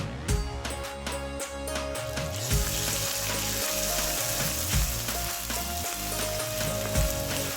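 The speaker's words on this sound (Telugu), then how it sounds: "ఒకటిన్నర టీ స్పూన్ అల్లం తెల్లగడ్డ పేస్ట్ వేసుకొని ఒక్క నిమిషం వేయించుకోవాలి" Golden-brown onions frying with ginger-garlic paste for mushroom biryani, a continuous bright sizzle carrying low rhythmic scraping and clunking from stirring, close and steady, with no talking.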